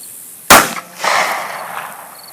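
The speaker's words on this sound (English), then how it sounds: "Now here's a hollow point, 9mm and a subcompact gun." A single sharp, loud crack of a 9mm hollow point round fired from a subcompact handgun, followed by a short splattering burst and a fading noisy tail as the target is struck.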